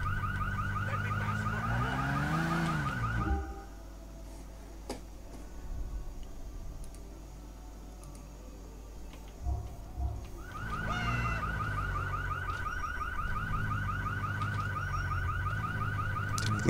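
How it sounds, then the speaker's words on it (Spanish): A car alarm blares in GTA IV, cycling through rising wails and steady tones, then cuts out for several seconds of quiet ticking before the loud siren pattern resumes. "Tengo que dejar de sonar la alarma."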